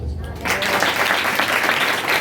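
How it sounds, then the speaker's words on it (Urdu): A church congregation bursting into loud, steady applause after a brief moment of quieter sound, sustained dense clapping filling the room. "ہون تالیاں بجاؤ"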